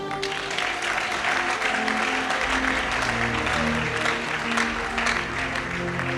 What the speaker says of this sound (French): Acclame maintenant.